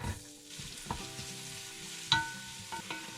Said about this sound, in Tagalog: We're going to saute now the garlic and the onion.